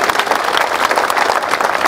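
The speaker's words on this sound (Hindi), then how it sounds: "एक बार जोर के ताली बजा दीजिए इनके लिए।" A rally audience breaks into dense, steady applause, many hands clapping together at close range with no voices over it.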